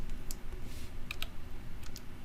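Soft, sparse keystrokes on a computer keyboard, a few light clicks scattered over a steady low background hum, heard alone with no talking.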